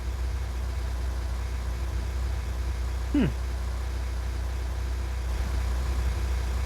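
A truck engine drones steadily in the Roblox Twisted game, a continuous low rumble throughout, with a brief voice-like swoop partway through.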